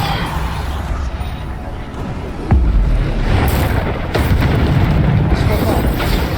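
Spell blasts in Hogwarts Legacy, with Bombarda among rapid-fire combat magic: a sharp low boom about midway, then a dense, loud rumble of impacts and bursts continuing under busy game noise.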